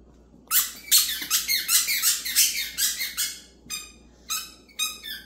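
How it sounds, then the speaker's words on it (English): Rapid, high-pitched squeaks from a rubber toy being squeezed over and over by a dog in quick bursts, with brief pauses between the later sets. "She just loves to squeak that thing."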